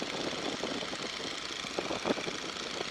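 The engine of a Boeing N2S-3 Stearman biplane runs steadily in flight, a loud, continuous rumble heard close up from inside the open cockpit, with a few uneven bumps and no talk.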